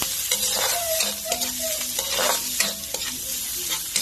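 Onion and garlic frying for a duck kaldereta, a bright hissing sizzle broken by repeated spatula scrapes and stirs in a quick rhythm, close and fairly loud, with no one talking.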